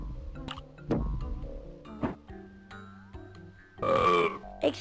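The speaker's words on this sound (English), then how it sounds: "The loudest burp." A loud, drawn-out burp rises out of a quiet room, followed by several shorter gulping and wet mouth noises with brief pauses between them.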